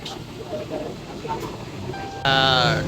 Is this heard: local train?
yes